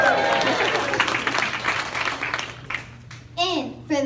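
Audience at a third-grade school Veterans Day program gives a cheer, a burst of clapping and cheering that fades after a couple of seconds before children's voices speak.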